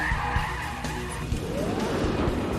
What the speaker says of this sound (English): When the Navara launches hard off the line